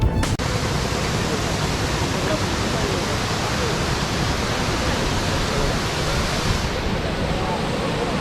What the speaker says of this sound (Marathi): हा तो रंधा वॉटरफॉल आहे पाणी कमी असल्यामुळे एवढाच फ्लो आहे